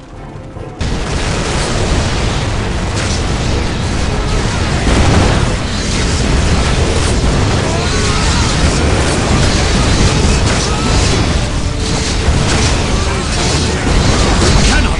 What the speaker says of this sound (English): Survive this barrage much longer.